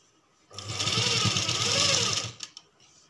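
A sewing machine stitches a blouse in one continuous close, loud whirring run of about two seconds, then stops with a couple of small clicks.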